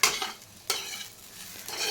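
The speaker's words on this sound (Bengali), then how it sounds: "শীতের একটা অন্যতম সবজি পেঁয়াজকলি এই যে পেঁয়াজকলি ভাজা" Spring onion stalks fry in a pan with a soft sizzle while a utensil stirs them, giving sharp scraping clicks at the start and again partway through.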